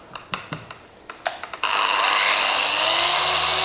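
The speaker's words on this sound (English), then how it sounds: "give it a light sand" An orbital sander starts up and runs steadily on the paintwork of a Ferrari Testarossa during paint correction, a loud continuous whine after a few short taps and clicks.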